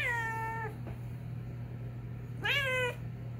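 A cat meows twice, two drawn-out, clear calls separated by a pause, close up over a steady low indoor hum.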